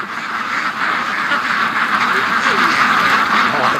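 A flock of free-range ducks quacks continuously at a morning feeding, a dense loud chorus of overlapping calls close by, with a person talking over it.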